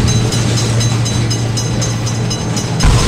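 A video-game train rolls past a railroad crossing with a loud, continuous rumble and rhythmic rail clatter, heard up close.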